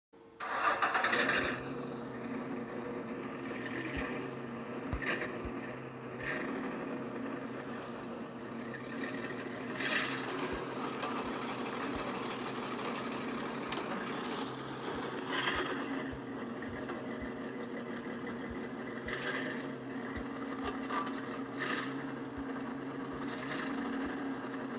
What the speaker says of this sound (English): this is what the car sounds like with the Flowmasters.